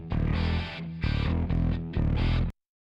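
Distorted bass track plays a short riff of thick, gritty sustained notes in several phrases, then stops abruptly into silence.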